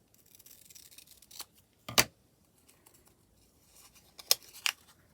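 Scissors cutting folded paper for a Valentine envelope embellishment in a junk journal, a few crisp close snips in separate bursts with quiet rustling between them.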